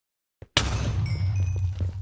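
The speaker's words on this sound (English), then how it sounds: "End crystals, many people don't realize it, but it actually makes a big explosion." A Minecraft end crystal detonates with a sudden loud burst after a brief faint click, then a sustained rumbling roar that stays loud through the rest of the moment.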